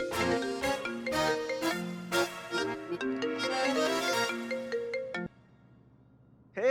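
A phone ringtone plays a bright melodic tune for about five seconds, cuts off abruptly, then a short burst resumes after a pause.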